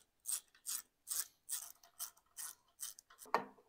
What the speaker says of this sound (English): We'll bolt it down into its fixed position and we'll check clearance to the rotor.